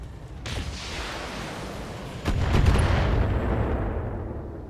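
A PPC blast and missile salvo fire in a BattleTech mech battle, a sustained roaring rumble that swells suddenly midway into heavier booming, loud and without talk.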